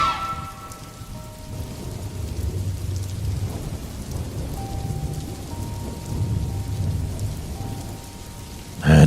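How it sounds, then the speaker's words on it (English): Steady rain falls while low thunder rumbles on and off in the distance, heard from a car driving through a storm, with a louder thump at the end. "Rain started coming down."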